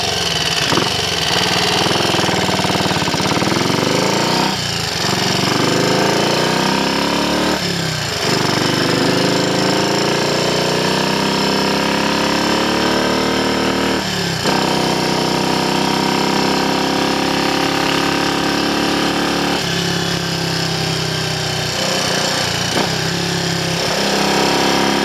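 A Triumph Cub replica motorcycle engine running steadily and loudly, its revs rising and falling in long sweeps with brief dips between, close and unbroken throughout.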